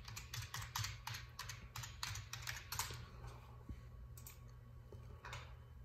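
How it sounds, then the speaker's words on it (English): Close, quick clatter of keys on a computer keyboard as a search word is typed, a burst of rapid uneven taps followed by a few slower isolated presses, with no talk. "Let me type in malnourished."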